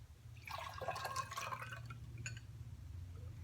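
Tap water splashing over tomatoes while rinsing them, a bright running trickle that swells and then thins to light drips, close by over a low background hum.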